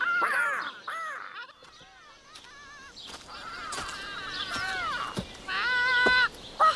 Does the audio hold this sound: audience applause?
no